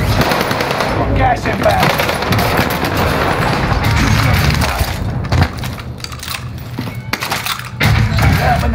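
Rapid automatic gunfire rattles almost continuously in a Warzone battle, loud and close, with thumps and a brief break near the end, while a voice speaks over the shooting.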